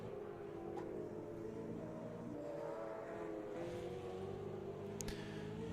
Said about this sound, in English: I do hear cars out on track.